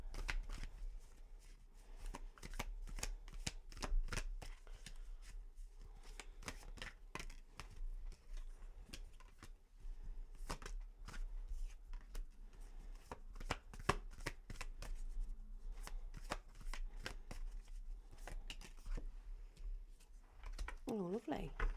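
Tarot cards are shuffled continuously, a rapid riffling patter of crisp card flicks repeating close by for the whole stretch, with a voice speaking now and then.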